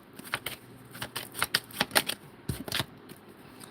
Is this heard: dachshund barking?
no